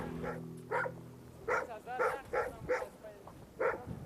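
A large dog barks repeatedly in a run of deep, evenly spaced woofs, moderately close, over a low background hum.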